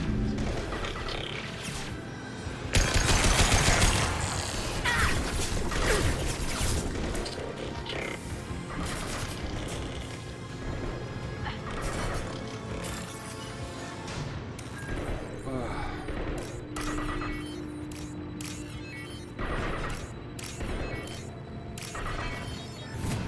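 A weapon in a remastered Mass Effect 2 fires a heavy high-impact shot with a loud crashing burst early on, followed by scattered smaller impacts and battle noise, with a voice speaking throughout.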